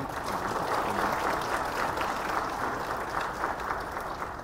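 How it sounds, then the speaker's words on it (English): Audience at an ASEAN finance event applauding steadily, a dense wash of many hands clapping throughout, moderately loud in a large hall. "Big applause for ASEAN."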